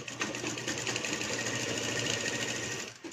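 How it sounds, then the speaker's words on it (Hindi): A sewing machine stitching a designer lehenga runs continuously at a steady whirring, rattling pace, close and loud, then stops just before the end. "यहाँ पर हमें 2-3 सिलाई लगा देनी है ताकि पक्का काम हो जाए हमारा"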